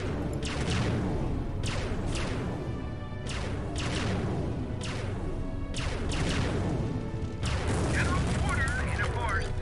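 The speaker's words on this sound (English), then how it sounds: "classic space fire we have there" Repeated heavy booming space cannon blasts in Empire Earth: The Art of Conquest, each with a sharp attack and rumbling decay, over a dense continuous background of battle noise.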